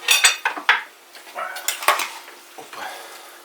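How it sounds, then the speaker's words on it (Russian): Plates and cutlery clatter at a meal in a rural farmstead house, with a quick run of sharp, close clinks and scrapes followed by softer knocks and rattles. "Так, давайте тарелки."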